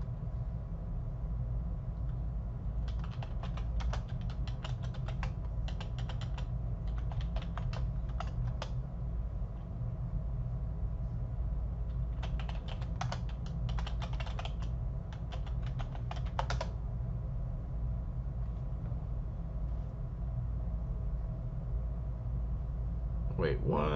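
Fingers type a password on a computer keyboard at a Fedora Linux login prompt, with two separate bursts of rapid key clicks over a steady low hum of room or machine noise.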